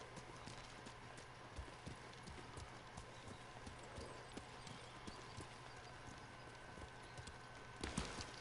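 A horse gallops in the Ghost of Tsushima video game, steady rhythmic hoofbeats clip-clopping throughout over a low hum, with a louder thump near the end.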